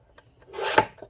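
A brief raspy scrape as scissors cut a piece out of recycled packaging material, one short close-up cutting stroke with small ticks around it.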